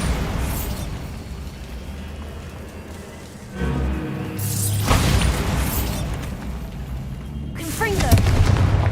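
A series of explosive spell blasts booms through the Hogwarts Legacy video game, several heavy, crashing bursts with rumbling tails spread over the clip, mixed with game sound and some voices.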